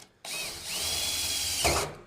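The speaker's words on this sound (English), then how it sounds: "we're going to drill our hole." A power drill bores a pilot hole into a plastic rain barrel in one steady whirring burst of about a second and a half, close up, ending with a brief rise in pitch.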